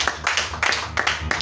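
Church congregation at a Friday night vigil clapping together in a quick, regular rhythm, about four bursts of hand claps, close and fairly loud.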